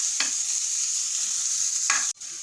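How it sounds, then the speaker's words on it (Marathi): Finely chopped onion and green chilli sautéing in a pan, a steady close sizzle broken by two brief spatula scrapes and a short sharp clack near the end. "आणि हा बारीक चिरलेला कांदा आहे आणि एक हिरवी मिरची आहे एकदम फाईन बारीक चिरलेली आहे हे सगळं छान परतून घ्यायचं आहे"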